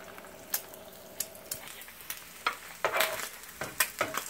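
Sausages with egg frying in a pan, a soft sizzle punctuated by a series of sharp scraping stirs at an irregular rhythm, fairly quiet and close.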